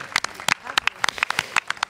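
Scattered audience clapping for a young fashion designer at the Miss RD Congo 2016 pageant, a few separate sharp claps in an uneven rhythm, moderately near and fairly light, with a voice briefly audible.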